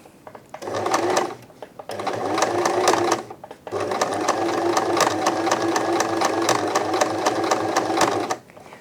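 A sewing machine stitches a blind hem along a folded edge of fabric, running in three bursts: two short runs with brief pauses, then a longer steady stretch of rapid, even needle clatter, close and loud.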